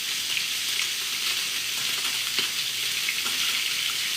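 Salmon fillets searing in a pan, a constant bright, crackling sizzle, close and even, with faint scattered pops and no talking.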